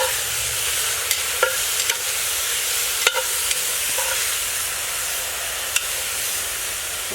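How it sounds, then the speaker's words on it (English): Meat stirred in a hot pot sizzles and hisses steadily and loudly, with a spoon scraping and clicking against the pot now and then. "So, I'll just keep stirring, keeping a close eye on it."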